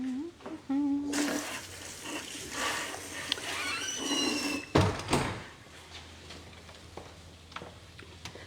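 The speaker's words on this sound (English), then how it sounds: "let me wash my hands" Water runs from a tap as hands are washed in a home kitchen, a steady close hiss broken by a knock or clatter midway, then quieter background.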